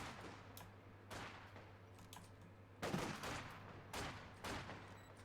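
Machine gun fire in a competitive World War II-style strategy match, sounding as scattered sharp bursts and shots, some distant and one louder burst, over a low steady game hum.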